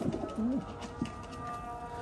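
Domestic pigeons give a couple of short, soft coos nearby against a quiet background hum, with no one speaking.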